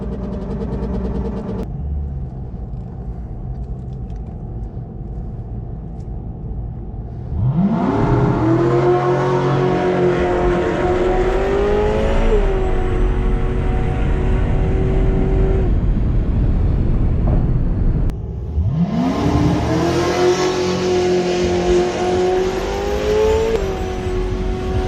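Tesla Model S Plaid drag racing a red Corvette at an eighth-mile strip: a low idle gives way to a loud rising electric whir and engine roar as the cars launch, then a second similar surge follows.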